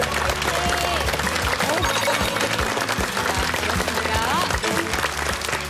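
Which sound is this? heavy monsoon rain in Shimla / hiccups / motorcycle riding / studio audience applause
studio audience applause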